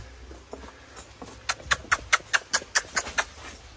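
A mare's hooves clip-clop in a steady, even rhythm of about a dozen sharp strikes on hard ground, moderately close, with a few scattered knocks before the gait settles.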